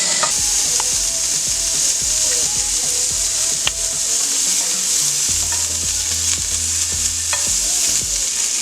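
Fatty pork belly fries without oil in a pan, a steady loud sizzle with scraping stirring and clacking spatula strokes throughout, no voices over it.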